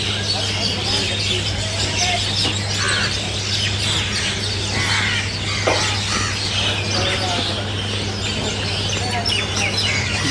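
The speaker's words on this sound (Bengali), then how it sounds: "এখানে দেখেন পাখির কিচিরমিচির" Birds chirp and squawk in the early morning at around five-thirty amid light fog near roadside shops. The calls are short and scattered, fairly faint over a steady low hum and background murmur.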